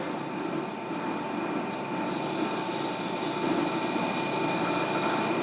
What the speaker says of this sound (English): I'm going to go ahead and start drilling my holes.